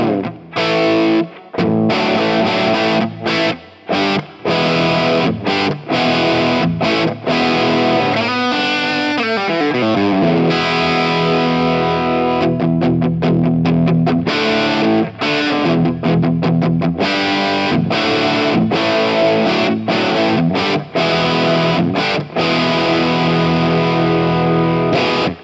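Electric guitar played loud through heavy distortion, choppy chords and bursts of notes with brief pauses and a faster run in the middle, sustained for about twenty-five seconds with no talking.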